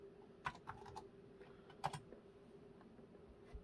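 A command is typed on an MSX computer keyboard: a short run of quiet, separate key clicks at an irregular pace, with a couple of sharper presses and a faint background hum.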